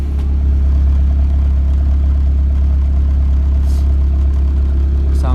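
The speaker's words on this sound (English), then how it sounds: "I'm gonna let the car idle" A 2004 Honda Civic engine idles after a head gasket repair with the heater on, a steady, loud low hum with light mechanical clatter, close and continuous without revving.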